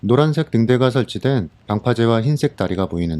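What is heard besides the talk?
No everyday noises stand out.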